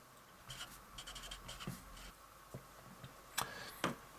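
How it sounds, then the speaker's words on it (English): Marker or chalk writing on a board during a cosmology lesson, faint scattered strokes and taps with a couple of sharper clicks near the end, quiet and without talk. "So I'm just going to write that down over here."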